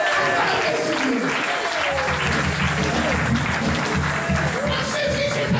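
A church congregation applauding, sustained dense clapping filling the room at steady volume, with voices mixed in under the applause.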